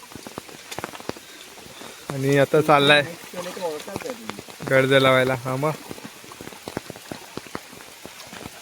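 Steady rain patters on the ground outdoors in a Konkan village during the monsoon, a continuous wash of drops running through the whole clip beneath a voice talking in bursts.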